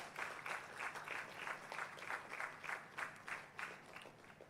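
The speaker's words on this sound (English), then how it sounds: "Please give a round of applause for their dedication and commitment." A crowd at a university convocation claps in a round of applause, faint and distant, with irregular pulsing bursts of clapping that continue steadily throughout.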